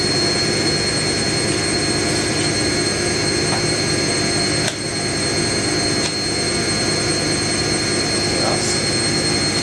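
Indesit IWC71452 washing machine spinning at 600 RPM on a 90ºC whites programme, a loud continuous whirring roar with faint periodic knocks, and a voice speaks briefly over it.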